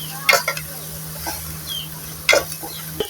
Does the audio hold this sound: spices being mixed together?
yes